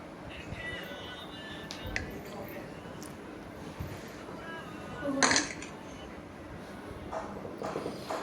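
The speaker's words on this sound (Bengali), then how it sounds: "তো ও আবার ছুরি দিয়ে কেটে নিচ্ছে" A knife cuts halwa on a plate: soft scraping against the plate with one sharp clink of metal on dishware midway, quiet and close over a steady background hum.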